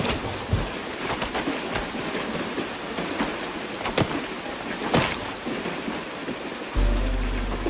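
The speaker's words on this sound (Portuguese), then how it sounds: "O seu mundo muitíssimo organizado desintegra-se com o ataque violento da chuva." Heavy rain pours down on a flooded forest in Brazil in a constant dense hiss, with occasional louder splashes and drops standing out close by.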